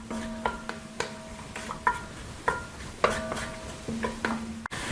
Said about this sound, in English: Take the time to really stir these into the veggies.